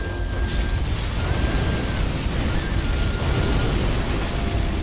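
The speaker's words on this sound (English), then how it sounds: "Particle cannon activated." Particle cannon firing in the video game Command & Conquer Generals Zero Hour, a dense, continuous rumbling blast with crackling noise that holds at steady loudness for about five seconds.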